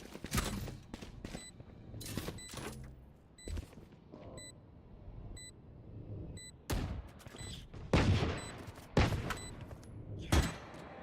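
Rapid bursts of gunfire from a competitive shooter match crack out in scattered clusters, with quiet stretches between volleys and small repeating electronic beeps in the background.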